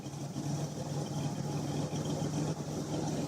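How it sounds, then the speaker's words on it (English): A Buick Electra engine idling fast, a steady, faint mechanical hum and drone that holds level throughout with no talking. "It's idling fast again."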